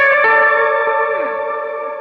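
Bass guitar played through a Keeley Caverns V2 delay and reverb pedal, one sustained note ringing out with a shimmering, echoing tail that slowly fades over about two seconds, no voices.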